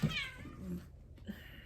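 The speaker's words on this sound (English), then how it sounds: "I'm sorry to hear the cats. They are up there playing." Cats playing upstairs let out a meow and a few softer chirps, slightly muffled and mid-distance over a faint room hum, no one speaking.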